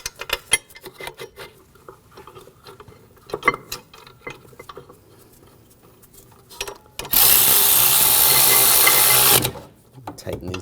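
On a 2001-2009 Volvo S60, a power tool whirs in one loud, steady burst of about two seconds while the rear brake caliper bracket bolts are tightened, after sparse clicks and taps of handling parts.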